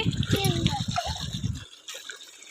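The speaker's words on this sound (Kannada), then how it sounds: "ನೋಡ್ರಿ ಇವಾಗ ನೀರಾಗ ಆಟ ಆಡಕತ್ತ ನೀರು ಎಷ್ಟು ಚೆನ್ನಾಗಿ ಬರಕತ್ತಲ್ಲ" Children splash and play in water flowing through a farm field, with bursts of splashing and trickling under their high chatter for most of the moment before it thins to a quieter outdoor trickle.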